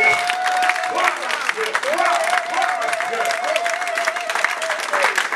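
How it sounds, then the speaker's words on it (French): A church congregation in Paris claps and calls out in acclaim, steady dense applause mixed with raised voices and a sustained sung or shouted tone over the crowd. "Oh, acclamons le roi."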